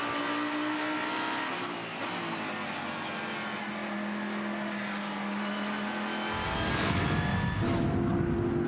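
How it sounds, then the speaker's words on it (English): GT race cars, including a rear-engined Audi R8 V10 and a Lamborghini, racing at Sydney Motorsport Park, with a steady loud engine drone that swells as another car roars past near the end. "Rear engine V10 R8. McConville was working, looking, trying, and making it stick down at turn 4"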